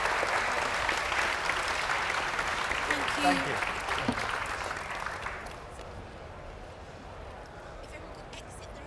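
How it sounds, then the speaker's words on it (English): Warm audience applause for a panel at an event chaired by a host, steady clapping that fills the room and then tapers off as a voice briefly says thanks over it. "a big round of applause for the panel."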